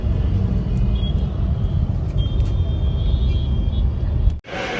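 Road traffic passing on a city street, a steady broad rumble of vehicles with faint tonal hints, continuous and fairly loud before cutting off abruptly near the end.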